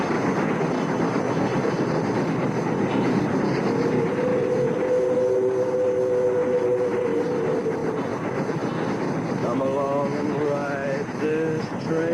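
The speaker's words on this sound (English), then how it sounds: "Come along and ride this train." A train rumbles past steadily in the background, with a rolling, continuous clatter, while faint tonal sounds rise partway through.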